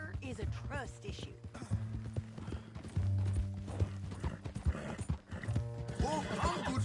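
Horse hooves clip-clop through a Red Dead Redemption 2 game scene, a steady rhythm of footfalls under voiced dialogue with a horse whinnying briefly, over a droning music bed.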